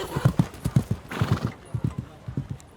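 Horses clip-clop rhythmically at the Le Pertre races, their hooves thudding close in a quick steady beat, with a horse whinnying briefly partway through.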